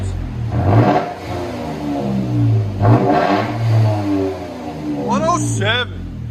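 A Toyota Tacoma TRD 4x4 with a 3.5L V6, manual gearbox and Black Widow exhaust revs loudly three times, each rise falling back to a deep idle rumble.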